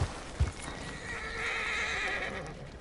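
A horse in the video game Red Dead Redemption gives a few thumps like hooves, then a long, fairly faint neigh that rises and holds in a thin, high whinny.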